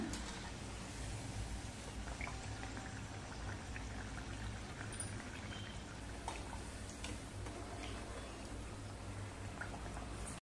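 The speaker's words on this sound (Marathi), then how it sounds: "करंजी आधी चांगली खालच्या साईडने तळून वरती येऊ द्यायची" Coconut-filled karanji pastries frying in hot oil, a steady dense sizzle and gentle bubbling that runs unbroken from start to finish at moderate loudness, with small pops and crackles scattered through it and no talking.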